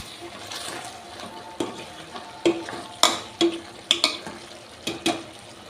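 Chopped tomatoes cooking down for sambar are stirred with turmeric, a soft bubbling sizzle broken by several sharp clacks and scrapes of a spoon against the pot that grow more frequent toward the end.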